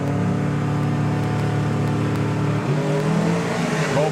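A Buick street eliminator drag car at a Santa Pod drag racing final builds boost with a loud, steady droning engine note, then launches with a sudden surge of rising roar near the end.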